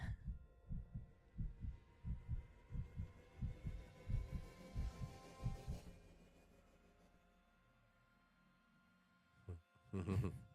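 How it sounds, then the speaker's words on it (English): Heartbeat from a short animated film, a steady series of deep, loud thumping beats that stop partway through, followed by quiet and then a brief burst of voice near the end. "You can hear the heart beating."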